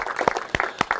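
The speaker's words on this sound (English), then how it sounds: "I just want to give them a round of applause" Brief, sparse clapping from a small audience at a presentation, just a few scattered claps in about a second.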